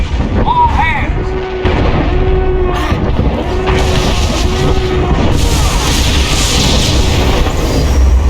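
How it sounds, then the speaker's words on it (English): A heavy explosion from incoming fire strikes a starship in the SWTOR game, a loud booming rumble under a blaring alarm and a voice over the comms, with continuous low roar and crackling debris filling the clip. "Warning! Warning! Incoming fire! All hands brace for incoming!"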